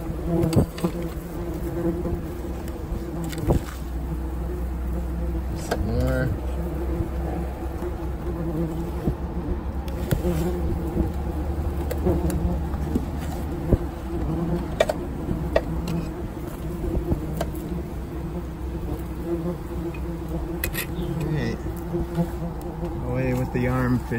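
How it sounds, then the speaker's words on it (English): Dense, continuous buzzing of many yellow jackets at a huge nest in a roof, up close, steady and loud throughout, with occasional rustling and handling noises. "Getting more bees in my hands than anything."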